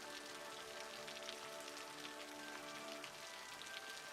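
Gentle rain falling in the city-building game Cities: Skylines, a soft, even patter of drops that runs without a break beneath a faint steady tonal ambience, quiet and with no one speaking.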